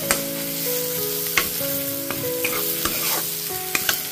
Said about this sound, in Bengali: গ্যাসের ফ্লেমটা হাই করে এটা খুব ভালোভাবে কষিয়ে নিতে হবে